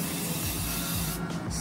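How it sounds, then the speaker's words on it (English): A short burst of aerosol hairspray hissing steadily for over a second, close up, with no voices. "And then I just spray it"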